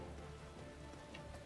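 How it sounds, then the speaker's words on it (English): Steady rain hiss in the Final Fantasy XIV game world, a continuous soft wash of falling drops at even level throughout, with no voices. "that's shelter from the rain"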